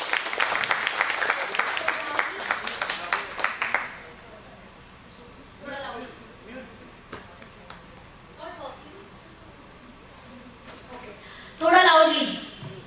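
A seminar audience applauds in a strong burst of clapping that fades after a few seconds, followed by quieter room sound, brief voices and a short loud flurry near the end.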